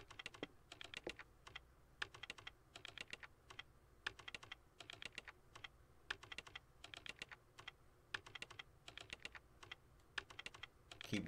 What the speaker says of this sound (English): Keyboard sounds about as loud as my keyboard, though.